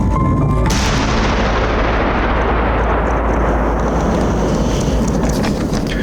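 A controlled mine detonation booms loudly at the start, then a long roaring rumble of debris and echo fills the air and slowly fades.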